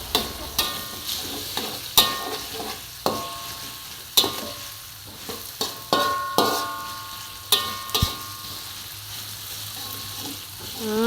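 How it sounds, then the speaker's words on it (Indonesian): Sliced onions and shallots sauté with ground spice paste for a beef stew, a steady close sizzle broken by repeated sharp scrapes and clacks of a spatula against the pan at irregular intervals, with no talking. "kita masukkan bawang bombay dan juga bawang merah yang sudah diiris tadi ya. Tumis bersama bumbu halus."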